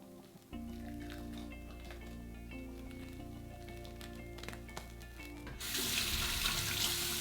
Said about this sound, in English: So first I'm going to rinse with warm water, and then I'm going to rinse with cold water